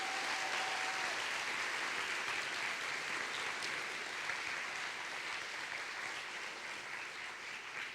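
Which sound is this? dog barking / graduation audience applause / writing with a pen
graduation audience applause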